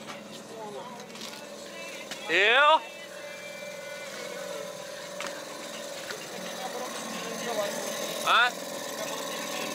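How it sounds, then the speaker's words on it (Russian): An outboard boat motor pushes a raft downriver, a steady mechanical hum running under the whole stretch, broken by two short loud bursts as people call out briefly. "Лодочный мотор."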